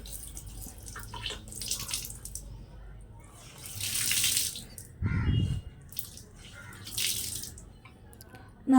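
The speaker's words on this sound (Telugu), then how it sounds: "నాకు సాధ్యమైనంత వరకు పిండేసి ఆ పక్కన బకెట్ మీద వేస్తానండి నీళ్ళు అవన్నీ అలాగే కారిపోతూ ఉంటాయి" Water running and dripping from wrung-out washed clothes hung on a bucket: irregular close trickles and splashy bursts that come and go.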